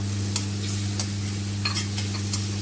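Tomato frying in a pan for masala khichdi, a soft steady sizzle over a low hum, with a few brief spatula scrapes and no voices.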